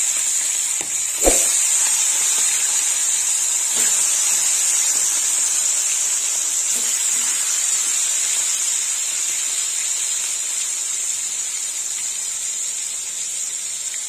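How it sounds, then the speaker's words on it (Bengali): Fish heads fry in hot oil with a loud, steady high sizzle throughout, broken only by a brief clunk early on. "এবার মাছের মাথাগুলো ভেজে নেব। দিয়ে দিলাম মাছের মাথা।"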